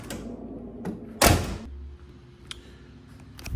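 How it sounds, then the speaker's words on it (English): A 1978 Ford Thunderbird's car door swings with a light click, then slams shut with one loud, solid thunk nearby, followed by a couple of faint clicks in a quiet setting. "I love that sound when you hear the door open and close."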